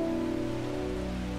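Steady rain falls in the video game Strange Horticulture as a constant, even hiss of drops, mixed with sustained soft tonal background music and no speech.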